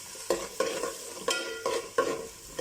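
Onions sizzle as they sauté for Chennai-style chicken biryani, while a spoon stirs them in about five steady, rhythmic scrapes through the pan over the constant frying hiss.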